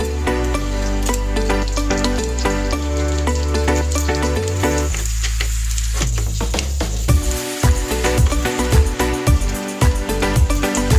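Garlic hitting a hot pan while cooking halang halang, with onion already in it, setting off a loud, continuous sizzle and crackle with occasional clinks of a utensil stirring.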